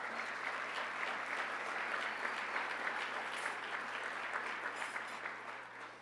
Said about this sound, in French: Je vous demanderai une petite main d'applaudissement pour l'équipe de l'ACPER.